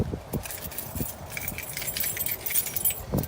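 A bunch of keys jangles and clinks repeatedly in someone's hand, a close, bright metallic rattling that comes in small bursts, with no voices.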